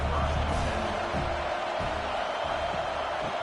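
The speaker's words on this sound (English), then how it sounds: "Listen to this crowd just shaking the girders of this place, trying to help their defense." A stadium crowd in a college football video game roars continuously at moderate level, a dense wash of cheering noise with no pauses.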